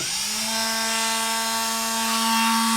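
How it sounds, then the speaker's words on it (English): A battery-operated Dremel 8220 with a small sanding wheel sands a wooden butcher block countertop, whining steadily and loudly at a constant pitch for the whole stretch, close up, with no voices. "I'm using a Dremel 8220. It's a battery operated Dremel, which is awesome."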